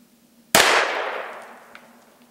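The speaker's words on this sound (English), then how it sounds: "we're going to fire off a .410 shotgun slug at the target" A single .410 shotgun slug fired at a target gives one sharp, loud blast that rings out and decays over about a second and a half, with no talk.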